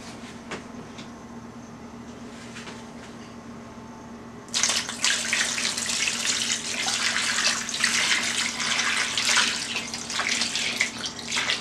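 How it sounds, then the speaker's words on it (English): Cold water from a kitchen tap pours into a pot, starting abruptly after a few seconds of quiet room hum and then running as a loud, steady splashing stream to the end. "So we're going to put the cold water from the tap."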